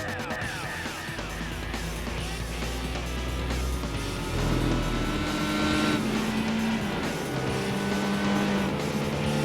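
Classic race cars lap the Nürburgring in a Gran Turismo 4 replay, engines droning loud and steady with rising and falling revs as cars pass, a continuous layered motor roar.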